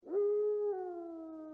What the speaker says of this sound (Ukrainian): коли він почув протяжне виття Рекса,